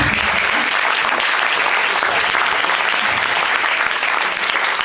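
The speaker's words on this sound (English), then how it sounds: "so you can maybe give him a round of applause." Steady, loud applause from an audience at a conference opening ceremony, a continuous wash of clapping hands held at an even level throughout with no voice on top.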